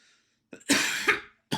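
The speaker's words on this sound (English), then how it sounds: "God, I cannot shake this cough." A single hoarse cough bursts out close and loud after a short breath, followed by a quick start of a second cough, in an otherwise quiet room.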